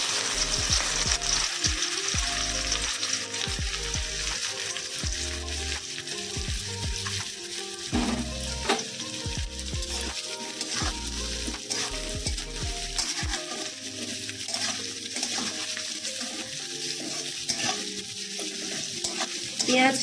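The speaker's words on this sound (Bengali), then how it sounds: "তেলটা গরম হয়ে গেছে, এবার এর মধ্যে আমি পেঁয়াজগুলো দিয়ে দিচ্ছি।" Onions sizzle and fry in hot oil while being stirred, with steady crackling broken by repeated scraping and clinking of a spoon against the pan for a chicken biryani.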